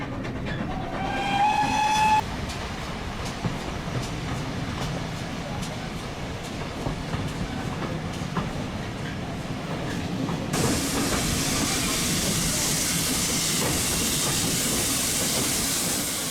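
A steam train on the Severn Valley Railway during its winter gala gives a short whistle early on, then carriages rumble along steadily, with a brighter rushing noise taking over toward the end.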